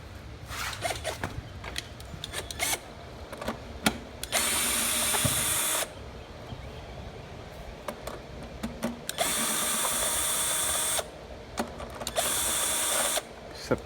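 A power drill removes the 10 mm bolts holding the recoil starter on a Toro mower with a Kohler engine, firing in three loud sustained whirring bursts with quieter clicks and handling noise in the gaps.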